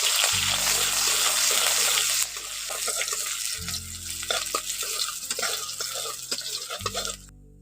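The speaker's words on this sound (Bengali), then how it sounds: "পেঁয়াজটাকে একটু ভালো করে ভেজে নেব।" Chopped onion fries in hot oil in a pan, a loud hissing sizzle at first that settles into softer crackling broken by repeated scraping and stirring clatter, then fades at the end.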